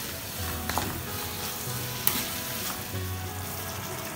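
Carrot halwa cooking in a pan over a low flame, a soft steady sizzle with faint scraping from stirring and a couple of small clicks.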